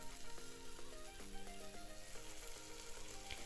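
Onion and tomato frying together in a pan give off a faint, steady sizzle beneath quiet background music.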